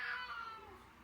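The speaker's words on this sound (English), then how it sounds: "That's my cat." A single short meow from a cat, fairly faint, heard alone in a quiet room inside an RV.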